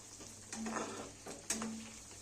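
Egg masala curry being stirred gently around a pan, a steady sizzle and fry with soft scraping strokes close up, no talk.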